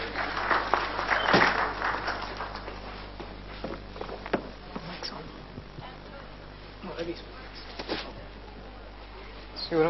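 An audience applauds to welcome two speakers onto the stage at a training and skill development session, steady clapping from a sizeable room with footsteps and some voices mixed in.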